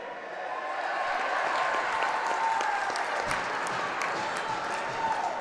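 Hockey crowd at a boys high school game cheering and applauding steadily, a dense wash of clapping and shouts that holds loud and even throughout.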